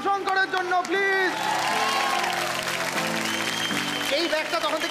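A television studio audience claps and cheers in a continuous wash with scattered whoops, while music and a voice run over the applause.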